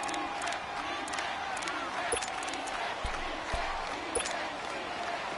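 Stadium crowd noise in a PS4 American football video game, a steady roaring wash of cheering with small bursts of whoops, continuous and moderately loud throughout.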